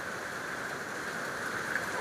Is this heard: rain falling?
yes